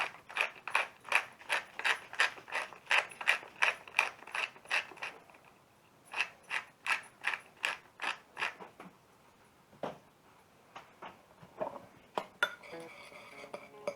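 Fresh pepper cracked in a hand pepper mill, a quick run of sharp, rhythmic ratcheting clicks that pauses, resumes in another burst, then fades to a few scattered scrapes and clinks.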